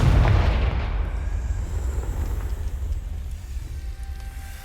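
In the video game Hogwarts Legacy, a Confringo spell detonates in one heavy, booming blast that rumbles low and loud, then slowly fades into a dull residual roar.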